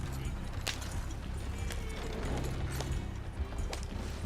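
Horse hooves clip-clop steadily as a horse pulls a trader cart in Red Dead Redemption 2, the even footfalls soft and close under faint ambient game noise.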